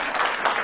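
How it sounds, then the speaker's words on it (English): A short, steady burst of audience applause at a political event, many hands clapping at once with no clear break. "It's okay, stop clapping"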